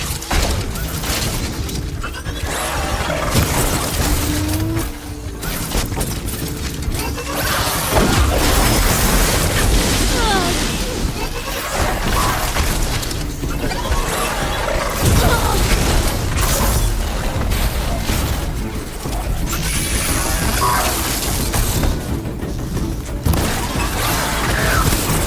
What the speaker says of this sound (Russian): Все блестит, все взрывается.